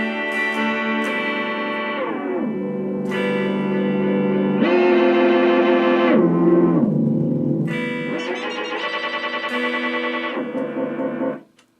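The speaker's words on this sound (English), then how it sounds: "This is OSC delay." A Boss OSC delay effect, run through a Boss ME-80 with a Katana Mini amp, turns guitar notes into sustained, self-oscillating repeats that swoop and shift pitch in stepped waves, loud and continuous before cutting off abruptly.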